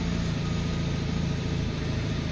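A car that sat unused for four months, fitted with new injectors, idles steadily after being started, a loud close rumble with an even pulsing throb and no talk.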